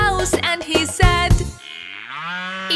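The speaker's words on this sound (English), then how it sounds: "it's the sound of a cow." A cartoon cow lets out a long, wavering moo right after a burst of bright children's song music, the call sliding down in pitch and fading at the end.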